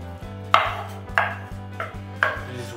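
An onion cut on a board with a small paring knife while cooking an ancient Roman onion soup, four sharp separate chops about half a second apart over a steady low background hum, with no speech.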